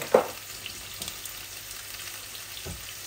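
Cumin seeds go into hot oil for a rui fish curry, giving a sharp brief burst of sizzle at the start that settles into a quiet, steady frying hiss with a faint clink later, no talking.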